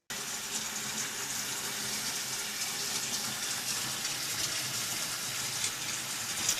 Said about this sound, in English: I'll stick it in the sink with some cold water.